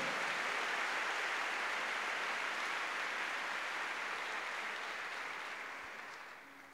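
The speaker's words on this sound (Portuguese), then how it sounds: "Se você crê nisso, aplauda forte ao Senhor, porque Ele é Deus" Church congregation clapping strongly during a sermon; sustained, dense, even applause from many hands, close and loud, tapering slightly at the end.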